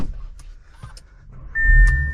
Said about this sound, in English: Power seats, of course.